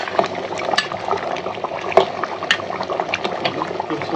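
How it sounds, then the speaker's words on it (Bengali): Hot water is poured into a pot of cow trotter nehari, a close, continuous splashing and bubbling gush with small crackling spikes, and no talk over it. "এই যে গরম পানিটা দিয়ে দিছি"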